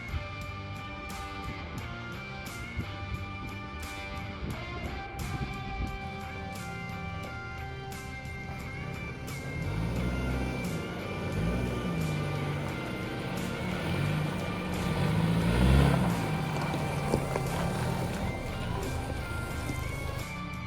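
Stock Toyota Tacoma pickup crawling off-road over a rocky section, engine droning steadily while tires grind and crunch over stones, growing louder and rougher midway with bumps and scrapes.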